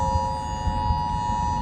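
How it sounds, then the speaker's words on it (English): Steady electronic alert tone during a tornado warning, holding a constant pitch with harmonics over low rumbling background noise, continuous and fairly loud for the whole moment. "You can hear the alerts, I guess. Alarm."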